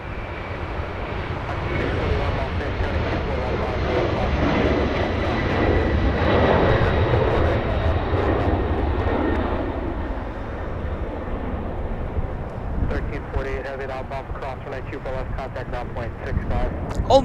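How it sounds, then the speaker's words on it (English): Avianca airliner bound for Guatemala City lining up on runway 24 left at LAX and taking off, a long swelling jet engine roar that builds and slowly fades, with voices talking over it near the end. "And the little Avianca flying to Guatemala City, getting ready to line up on runway 24 left."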